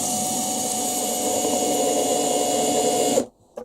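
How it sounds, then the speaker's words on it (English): A cordless drill spins a Woodcut stem sharpener against a cup tool's bevel, giving a steady high whirring whine that runs loud for about three seconds, then stops abruptly into near silence with a faint click. "Put it in a cordless drill"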